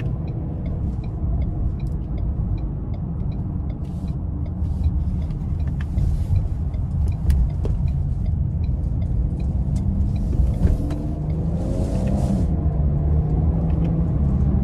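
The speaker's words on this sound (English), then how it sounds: "Now I've put the Edge into sport mode and I also have activated the paddle shifter. So we're gonna see how it does getting up to speed." A 2024 Ford Edge ST with a 2.7-litre twin-turbo V6 accelerating hard in sport mode with paddle shifting, heard as a steady, loud low engine rumble from the cabin, with rising tones near the end as it climbs through gears.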